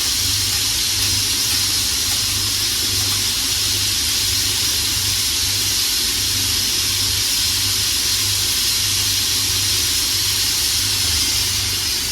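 Steam hissing steadily from a pot of beans cooking, a broad continuous hiss with a low pulsing rumble underneath, fairly loud and close, no talk.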